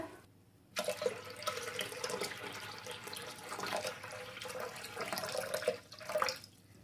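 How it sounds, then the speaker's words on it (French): A litre of water poured into a Thermomix bowl, a steady splashing pour that starts abruptly after a brief quiet, runs for several seconds with slight surges, then tapers off near the end. "je vais placer 1 litre d'eau dans le bol du Thermomix"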